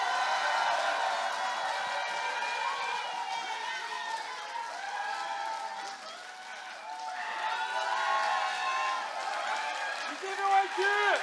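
Crowd applause welcoming candidate Lee Jae-myung at a South Chungcheong party leadership rally, a steady wash of clapping and cheering heard alongside a voice over a loudspeaker.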